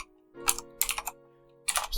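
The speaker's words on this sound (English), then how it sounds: "Oh, oops, what's wrong with my typing today?" Typing on a computer keyboard while writing Python code, heard as three quick bursts of clicking keystrokes separated by short pauses, close and fairly clear over a faint steady hum.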